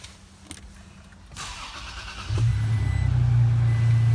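A 2018 Toyota Tacoma TRD Pro started by push button: a brief starter crank at about the one-and-a-half-second mark, then the engine catches and settles into a steady, loud low idle that runs to the end.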